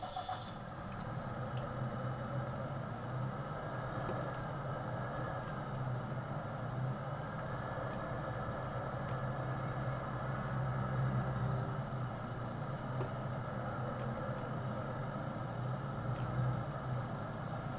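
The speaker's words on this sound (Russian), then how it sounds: "Так, берем трактор." Tractor engine in Farming Simulator 19 running at a steady, low drone throughout, with a continuous idle-like hum and no talking.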